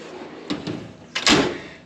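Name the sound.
metal toolbox drawer being opened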